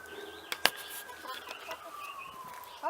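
Backyard hens cluck and squawk nearby, with a couple of sharp louder calls among softer, rising and falling clucks and chirpy bird sounds across the clip.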